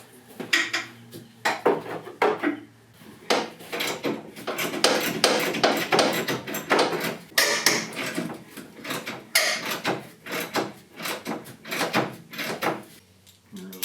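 Metal clanks and rattles as a metal trailer hitch is worked loose and removed from a 2000 Club Car Turf II XRT gas golf cart, with repeated close, sharp knocks and scraping throughout.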